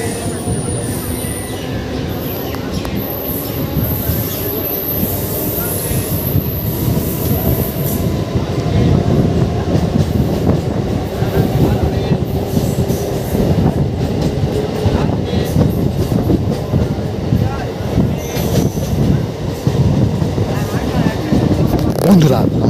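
A Howrah–Bardhaman super local train runs on the chord line with a loud, continuous rumble of wheels and carriages, steady rattling and faint squealing. Voices can be heard under the noise.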